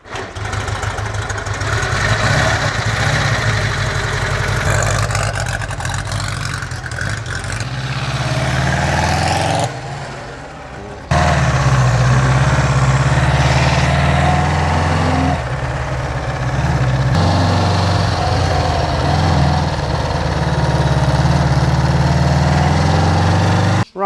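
A restored engine cranks, catches and settles into a steady idle, loud and close with a constant rumble for over twenty seconds, broken by a short dip partway through.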